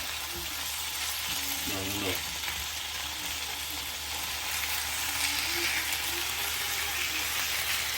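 Chicken roasting in a pan for a low-masala dish gives a dense, steady sizzle, close and fairly loud, with brief stirring and turning noises in the first few seconds.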